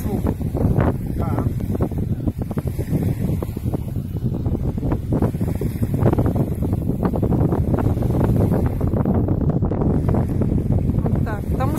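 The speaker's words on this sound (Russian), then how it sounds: "Тут, правда, ветер, блин." Strong wind buffets the microphone on a sandy beach near the river in Anapa, a constant loud roar with gusty rumbles, while people talk over it throughout.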